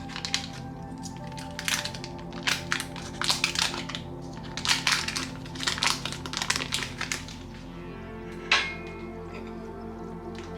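Unsalted butter being cut with a fork for air fryer scones, a run of sharp, irregular clicks and scrapes of metal against the butter and dish, close up, with a low steady hum underneath.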